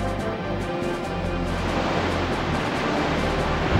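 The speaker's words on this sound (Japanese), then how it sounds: "ここで波乗りだ" The Surf water attack in the Pokémon Stadium Gold and Silver video game roars as a loud, continuous rush of crashing waves, a dense watery hiss that swells and holds steady with no voices.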